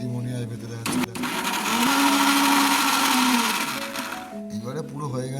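A kitchen blender grinds ginger and garlic into paste in a steady, loud whir lasting about three and a half seconds, with voices just before and after.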